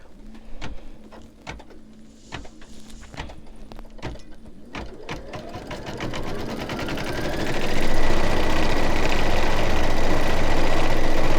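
An embroidery machine stitches a snowman mug rug, its needle tapping in a rapid steady rhythm close by, then speeding into a continuous, louder mechanical whir.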